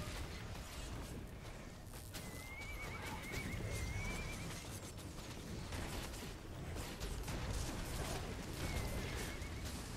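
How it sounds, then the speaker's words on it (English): Horses in the Guild Wars 2 video game whinny twice in high, wavering neighs over a dense, noisy battle backdrop of steady rumble and clatter. "There's whinnying horses."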